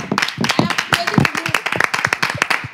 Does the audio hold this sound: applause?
yes